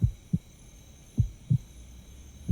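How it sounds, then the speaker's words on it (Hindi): A steady film heartbeat sound effect thumps in uneven pairs, five low beats in under three seconds, close and alone over a faint hum. "मेरे दिल की धड़कन"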